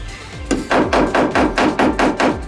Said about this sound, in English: Hammering that lip around the flange.